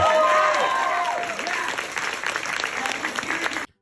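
An indoor audience claps and cheers loudly at a live event, the applause fading gradually before cutting off abruptly.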